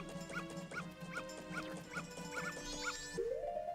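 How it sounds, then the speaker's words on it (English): A dog in The Legend of Zelda: Majora's Mask gives a steady run of six high, chirpy video-game yaps, evenly spaced over sustained in-game music, ending with a rising electronic tone. "That dog is gonna get fucking punted."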